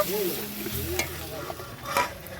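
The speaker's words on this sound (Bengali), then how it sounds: "আবার এই তরকারিটা নাড়তে চলে এসেছি" A vegetable curry with mustard paste is stirred in a hot pan, with scraping strokes over a constant sizzle and a brief pitched sound at the start.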